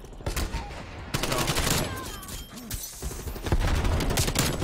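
MP5 submachine gun firing in Call of Duty Cold War, rapid bursts of gunfire in close succession with game effects, loud and up close throughout.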